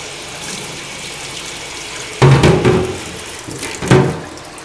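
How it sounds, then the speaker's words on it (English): Tap water runs into a kitchen sink while a dishwasher strainer is rinsed under the faucet, steady low splashing with two louder bursts as the flow hits the strainer. "we're going to take the strainer out and we're going to go ahead and rinse it"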